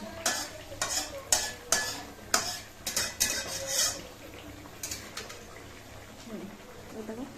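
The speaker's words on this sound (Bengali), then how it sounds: "আগে বাবারটা ভেজে দিই, তারপর সবার এক একটা করে ভাজছি।" Chicken cutlets frying in a pan, with a soft sizzle under clattering utensil clinks and scraping turns against the pan, while people talk nearby.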